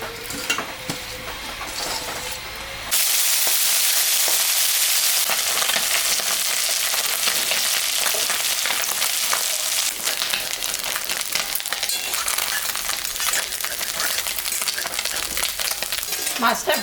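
Fish seasoned with salt and turmeric sizzles in hot mustard oil in a kadai, a loud steady crackling fry that starts abruptly and carries on, with occasional stirring clinks and a voice talking over parts of it.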